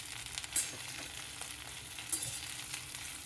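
Okra sizzles in hot oil in a pan for a quick Marathi-style bhindi stir-fry, a steady broad frying hiss with two brief sharper crackles, fairly faint and with no voices.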